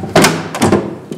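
Trapdoor in an abandoned building banging with two or three heavy, hollow thuds close by, the first loudest, followed by a lighter knock.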